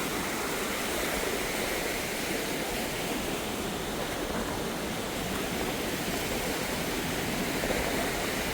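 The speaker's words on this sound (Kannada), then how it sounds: "ಇದೇ ನಯಾಗ್ರಾ ಫಾಲ್ಸು." Niagara Falls thundering, a steady, dense, broadband roar of falling water heard up close from the American side. It continues unbroken with no voices.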